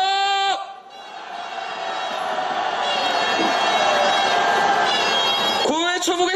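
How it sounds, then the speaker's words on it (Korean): Candlelight protesters marching toward the presidential office in Yongsan raise a sustained, loud shout and cheer that swells and holds for several seconds, with an amplified voice ringing over the crowd at the start and again at the end. "함성"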